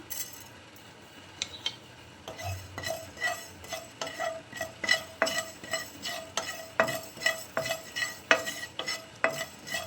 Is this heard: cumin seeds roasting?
yes